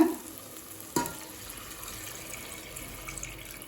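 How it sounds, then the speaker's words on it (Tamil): Water pours into a pot of sautéed biryani base with a sudden splash, then continues as a steady wash over a faint sizzle, close and moderately quiet. "அடுத்தது 3 கப் தண்ணி சேர்த்துக்கலாங்க."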